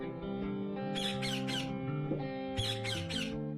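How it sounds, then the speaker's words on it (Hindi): A caged bird squawks noisily in two loud bursts of three harsh, bright calls each, over a steady tonal background with no talking. "ये पक्षी बहुत शोर मचा रहा है।"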